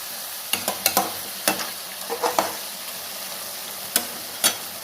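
Chicken pieces frying for chilli chicken under a steady soft sizzle, broken by several sharp scraping strokes of a spatula against the pan at irregular intervals.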